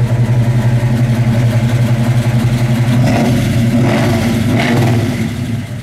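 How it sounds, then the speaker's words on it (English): A big-block 1966 Chevelle engine idles with a deep, lumpy rumble from its dual exhaust, then revs up a couple of times before settling back down. "That's a nice sounding dual exhaust, man."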